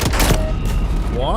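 Gunfire in Modern Warfare 4 multiplayer: loud, dense bursts of shots and booms fill the moment, with a shouting voice over the battle din.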